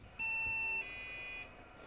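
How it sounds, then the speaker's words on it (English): Electronic beep codes from a Commodore PC 10 motherboard on reboot: a loud steady tone, then a second shorter tone at a slightly different pitch, close and clean with no voices. "Hey, that was 2 different sets of beep codes."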